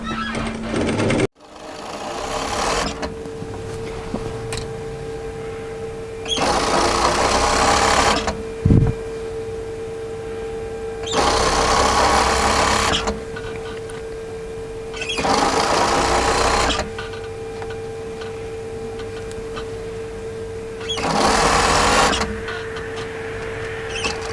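Sewing machine running lengthened stitches along a knit hem on a hooded jacket, in five steady bursts of a few seconds each, separated by short pauses with a low hum beneath.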